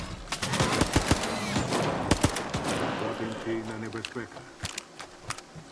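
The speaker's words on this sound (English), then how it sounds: "the pistol doesn't really do that much damage, but it has a lot of bullets" Rapid pistol fire in a video game rings out as a string of sharp, closely spaced shots with loud bursts and short pauses, heard over a person talking and game sounds.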